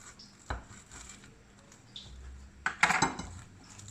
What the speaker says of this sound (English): So let's cut the qatlama to see how it's inside.